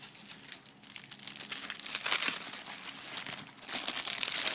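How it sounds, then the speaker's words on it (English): Plastic keyboard being pulled free from a Toshiba Satellite C655D laptop after its retaining tabs are released, giving continuous close crinkling and crackling with scattered sharp snaps, growing busier toward the end. "And you just now remove your keyboard."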